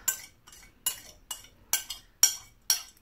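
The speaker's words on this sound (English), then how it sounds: "I'm just mixing it up to get everything coated" Venison with honey chunks and vegetables being stirred in a crockpot, a spoon scraping and clinking against the pot in seven regular strokes, close and fairly quiet with no voices.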